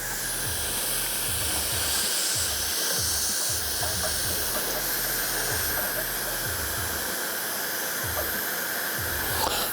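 Air hissing steadily from a small leak in an air compressor under repair, a broad, constant rushing hiss with a faint rhythmic low thumping beneath it.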